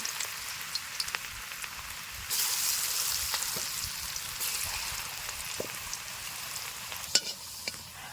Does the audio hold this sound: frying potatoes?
yes